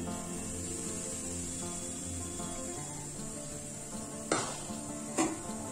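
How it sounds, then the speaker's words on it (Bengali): Semolina frying in ghee, a faint steady sizzle under a constant kitchen hum, with two brief spoon scrapes near the end. "এবার সুজিগুলোকেও আমি ঘিয়ের সঙ্গে ভালো করে ভেজে নেব।"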